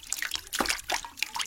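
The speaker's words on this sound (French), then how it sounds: "Brin de nature s'approche de la flaque et se met à patauger joyeusement dans l'eau. Ça fait des clapotis." Splashing in a puddle as a character stomps and paddles through the water, a run of wet slaps and drips in quick uneven bursts, close and fairly loud.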